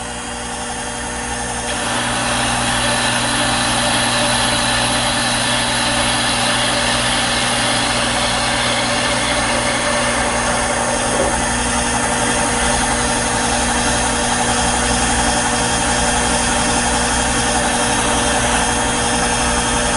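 A metal lathe turning a part held in pie jaws, giving a steady close machine hum and whine that holds at an even level throughout once it spins up.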